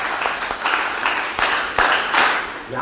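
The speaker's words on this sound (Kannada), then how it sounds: "ಚಪ್ಪಾಳೆ" Audience applause at a college NSS camp stand-up comedy show, a dense wash of many hands clapping steadily and fairly loud throughout, with no talking over it.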